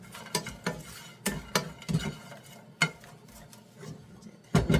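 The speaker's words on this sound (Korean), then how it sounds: "충분히 멸치의 기름 맛이 나갈 수 있도록 충분히 볶아줍니다." Anchovies stir-fried in a pan, with irregular clatters and scrapes of a utensil against the pan at uneven intervals, fairly close, with no talk.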